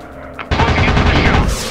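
Rapid machine-gun bursts from WW2 warplanes in a dogfight video game, loud and continuous after a brief quiet start, with dense crackling gunfire filling the clip.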